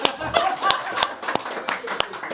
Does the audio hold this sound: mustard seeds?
no